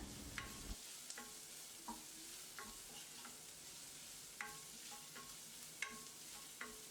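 Onions, green chilies and curry leaves sizzle quietly in a pan while a utensil scrapes and taps against it every second or so, soft and close.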